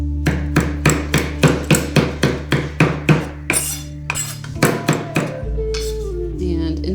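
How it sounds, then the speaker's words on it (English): A kitchen knife gives fresh peppermint a rough chop on a cutting board, with a run of about fifteen fast, even, close knocks, then a pause and a few scattered scrapes. "And let's just give it a little rough chop here."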